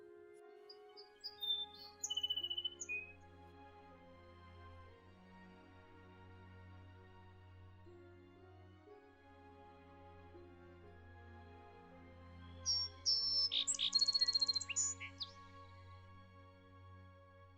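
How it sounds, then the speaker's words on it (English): A song sparrow sings in summer in two short, bright bursts of song, one early and one late. Between them, a faint steady tonal background drones on. "the song sparrow continues to sing well into the summer"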